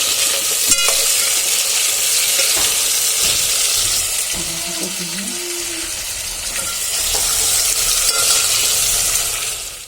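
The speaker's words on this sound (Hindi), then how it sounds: "यहाँ मेरा तड़का लगा गया है कतली में" Steady, loud sizzling of tadka spices frying in hot oil in a kadai, a continuous crackling hiss that fills the whole stretch with no voices.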